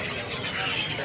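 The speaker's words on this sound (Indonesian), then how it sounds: "Di sini ada burung foxai mandarin ya." A foxai mandarin bird calls from a cage at a bird market, giving brief chirping notes mixed with a person talking nearby.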